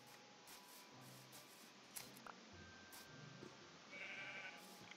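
Sheep bleating in the Minecraft video game, a few short game bleats spread over a quiet stretch, fairly soft and heard alone.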